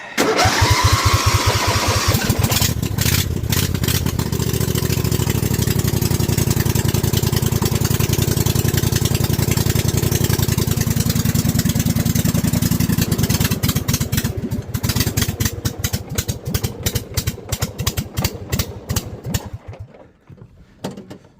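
A snow mower's small engine cranks and catches, then runs at a loud, steady idle for about twelve seconds before sputtering unevenly and dying out, heard close up with no talking.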